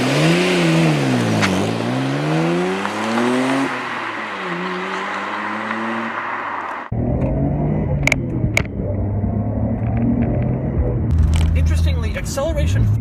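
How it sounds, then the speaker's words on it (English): A 25-year-old Japanese Nissan Skyline GT-R accelerating, its engine note rising and falling in pitch through the revs, then a gear change into a lower, steady drone with a few sharp clicks, close and loud. "For a 25-year-old car, acceleration is surprisingly strong."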